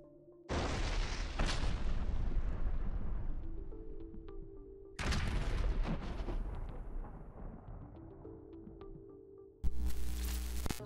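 Heavy FAB-1500 aerial bomb blasts strike troop positions in Stepnohursk, Zaporizhzhia region, each a sudden deep boom with a long rumbling decay; two big detonations followed by a third sharp burst near the end, loud and close.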